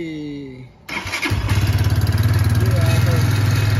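A motorcycle engine cranks and starts after its kill switch is released, then settles into a loud, close, steady throbbing idle, following a brief moment of voice at the start.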